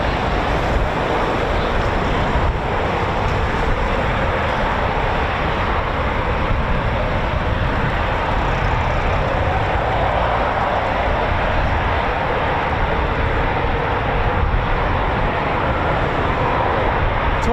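Eurofighter Typhoon FGR4 jet making a low practice display pass at 1500 feet over RAF Coningsby, a steady broad roar of jet noise that stays loud and unbroken throughout, with no voices over it.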